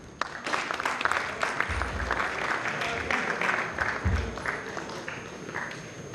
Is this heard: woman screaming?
no